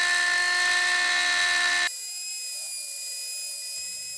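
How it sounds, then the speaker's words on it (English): A small die grinder cuts into the metal steering stop of a Honda VFR motorcycle, a steady high-pitched whine with a sharp tonal change partway through as the load shifts. "we've got our little die grinder out"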